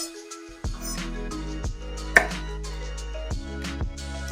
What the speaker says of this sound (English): you're just going to chop the end off each side of the garlic